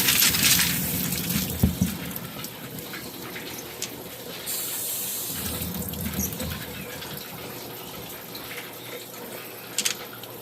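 A tap runs steadily as hands are rinsed of black residue from a rock tumbler liner, the water splashing into a sink close by with brief louder gushes and knocks near the start and end.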